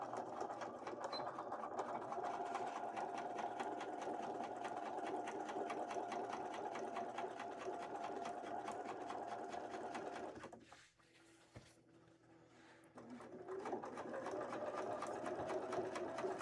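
A sewing machine stitching seams on a Link cosplay costume runs in a steady, close, rapid whir, pauses briefly for a couple of seconds, then starts up again.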